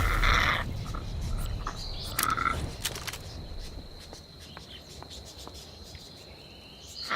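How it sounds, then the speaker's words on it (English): Scattered short bird chirps, some of them parakeets, sound faintly over a steady outdoor ambience in the fantasy survival game Dark and Light, with no talking. "And the sound of the birds"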